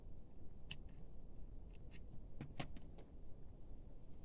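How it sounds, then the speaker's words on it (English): Scissors snipping through knitting yarn at the end of a star stitch cardigan, giving a few sharp, close, isolated clicks and cuts over a quiet room background. "cut your yarn"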